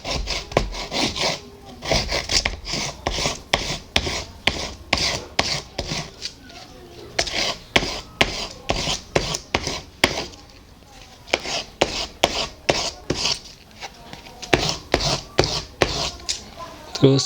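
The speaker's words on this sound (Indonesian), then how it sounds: "kita gosok juga sudutnya" Sandpaper rubbed along the edges and corners of an acrylic signboard sheet, making steady back-and-forth scraping strokes in a close, regular rhythm that pauses briefly around the middle.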